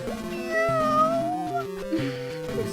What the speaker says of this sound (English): It's like a cat meowing.